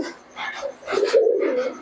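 Giribaz pigeons kept for sale give a few soft, low cooing calls close by, brief rolling coos that rise and trail off against quiet background.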